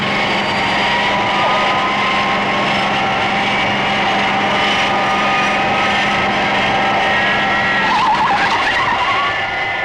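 Fireflash aircraft braking hard on a runway with tires skidding, a loud continuous roar of engine and rushing noise, with a rising screech of tire squeal near the end, with no talking.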